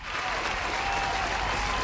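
Sustained applause from a radio quiz show audience, dense and even clapping throughout at a steady loudness.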